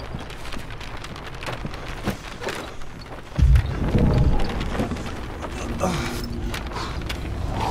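Rain pours steadily through a storm in the video game Beyond: Two Souls, with creaking and a deep low rumble of thunder rolling in midway before easing back into the downpour.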